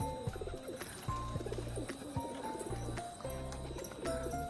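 Male Rajshahi pigeon calling in low, repeated coos among rhythmic background sounds, with no speech.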